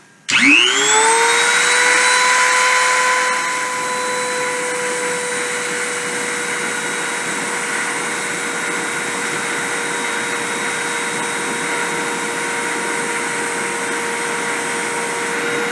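A machine spindle starts abruptly and climbs to 30,000 RPM in a rising whine, then holds a loud, steady high-pitched hum with a rushing airy layer for the rest of the span.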